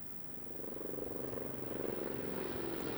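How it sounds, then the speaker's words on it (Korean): A leased firefighting helicopter approaches a wildfire response drill on a hillside, its rotor producing a steady, rhythmic thudding drone that builds gradually from a distance and stays fairly faint throughout. "긴급 출동한 장성군 임차 헬기가 황룡면 신오리에서 출동하여 산불 진화 현장에 진입하였습니다."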